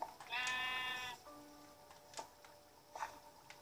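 A Minecraft sheep bleats once in a long, wavering call, followed by sparse clicks and faint taps in a quiet game setting.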